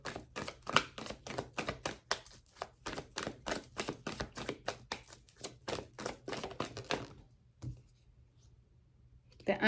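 A deck of tarot cards is shuffled in rapid, even riffles and snaps, close and crisp, for several seconds before a pause and a final card noise.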